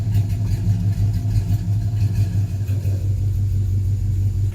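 A Ram R/T's engine idles with the exhaust cutout open, a loud, deep exhaust rumble, a steady throbbing drone heard from inside the vehicle.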